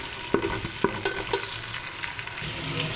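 Chopped tomatoes sizzle and fry in a pan for chana deghi pulao, a steady close hiss punctuated by a few sharp clinks of a spoon stirring against the metal, with no talk.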